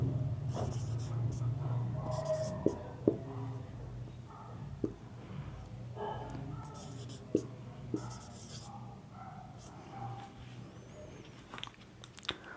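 A teacher writes notes on a board during a psychology lesson, producing scattered scratchy strokes and occasional sharp taps over a steady low hum, with no talking.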